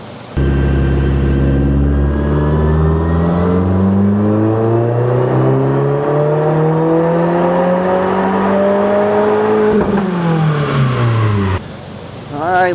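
A 2022 Subaru WRX engine, tuned to run on ethanol, revs steadily in a cavernous space, its pitch climbing over several seconds with a loud, echoing roar before dropping off near the end.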